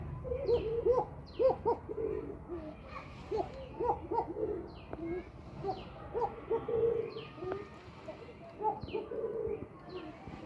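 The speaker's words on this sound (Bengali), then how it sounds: "অনেক সুন্দরভাবে কিন্তু ডাকা শিখে গেছে সব কবুতর আমার" Young pigeons on a home loft coo in soft, repeated rolling phrases, several birds overlapping at moderate distance, with faint chirps and light background noise between calls.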